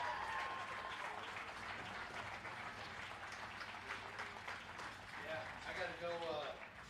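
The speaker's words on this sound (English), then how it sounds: "one more round of applause for the Misty Ray team" Crowd applause at a Babe Ruth 16-18 baseball league championship ceremony, steady sustained clapping from a gathered crowd for about seven seconds, with voices and cheers mixed in underneath.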